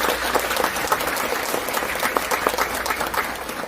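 Audience applause at a Liberation Day event in Gwangmyeong, a steady, fairly loud patter of many hands clapping together throughout the short clip.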